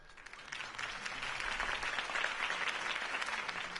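A crowd at a campaign speech breaks into continuous applause, swelling to a dense, steady roar of clapping that holds throughout at moderate distance.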